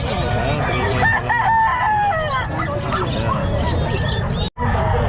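A young rooster (stag) at a busy Calumpit pet market, with loud clucking and crowing among other fowl and a murmur of people talking nearby, then a sudden cut near the end.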